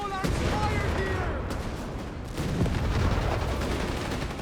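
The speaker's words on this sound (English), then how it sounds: "got the Pak 38 engaging the Greyhound" A Pak 38 anti-tank gun fires in Company of Heroes 3 amid a battlefield din of booms and scattered gunfire, heavy reports landing over a constant roar of combat, with a voice talking through it.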